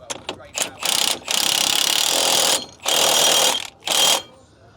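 A red impact gun undoes a bolt on a track-day car, firing in loud, sharp bursts of rattling hammering, first a few short stutters, then long sustained runs separated by brief pauses, up close.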